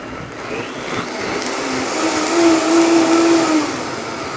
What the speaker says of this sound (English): now that our ingredients is properly blended up